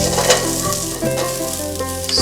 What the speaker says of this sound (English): So the garlic is brown right now. So I'm just adding a little bit of the onions that we've chopped.